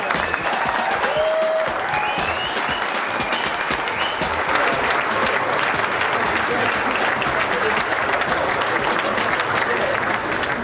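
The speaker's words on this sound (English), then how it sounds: "Big round of applause, everyone" A crowd at a Volkswagen show claps steadily and loudly for the raffle winner of Herbie, the applause sustained throughout, with a brief voice and whistle-like tones early on.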